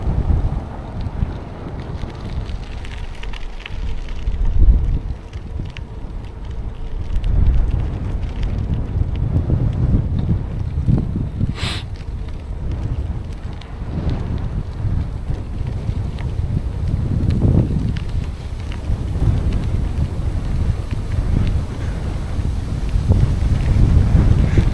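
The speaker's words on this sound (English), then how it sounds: "There's a little bit of wind still." Wind rushes against the microphone during a bike ride, a continuous low rumbling roar that rises and falls in gusts over the whole stretch, with no speech.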